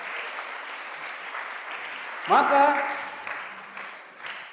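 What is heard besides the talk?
applause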